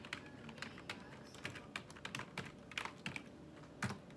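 A child types on a computer keyboard with quick, uneven clatters of keystrokes close by, steady and busy with no talking.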